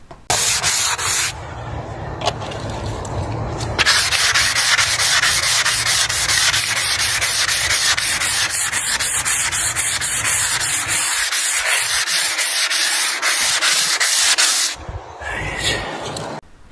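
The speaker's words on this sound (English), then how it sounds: "So I had to reuse the polisher and then come back onto the discs." A power polisher grinds across a marble headstone during cleaning and restoration with a loud, steady whirring rub. It starts abruptly, runs for about ten seconds, then cuts off, with brief quieter stretches before and after.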